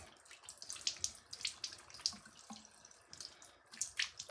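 Tap water runs and splashes while shower lotion lather is rinsed off hands at a sink, faint uneven trickling and dripping with soft splashes, close by, no talking.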